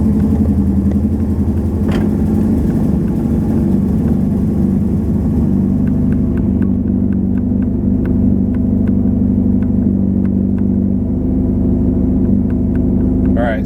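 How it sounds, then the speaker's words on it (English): A 2004 Subaru STi engine idles on cold start with a steady low rumble, close and even throughout, with faint clicks and ticks over the drone and a small squeak at the very end. "that's the car running at idle"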